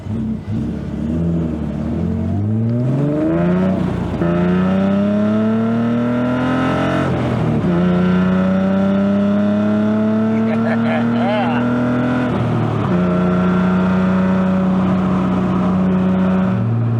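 A BMW E30 engine with an exhaust leak revs repeatedly, its droning tone climbing and dropping through several loud, sustained pulls with short breaks between them, steady and close throughout.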